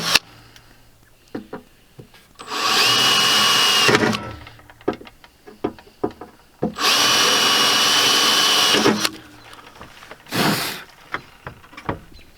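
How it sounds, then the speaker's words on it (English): A power drill bores a few holes for a boat mounting bracket, two long loud whirring runs and a shorter burst, with scattered clicks and handling knocks between them. "then we're just going to take our drill"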